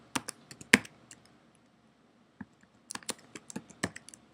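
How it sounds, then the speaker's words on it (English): A computer keyboard is typed on in two quick clusters of sharp clicks with a pause between them, close and fairly quiet, with no talking. "You will then type in the correct spelling for the word."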